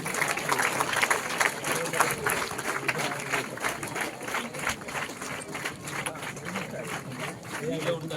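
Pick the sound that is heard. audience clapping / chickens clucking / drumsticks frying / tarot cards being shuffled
audience clapping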